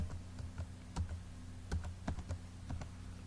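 Quiet, irregular key taps on a computer keyboard as an ID card number is entered, a brisk run of soft clicks close to the mic with no talking.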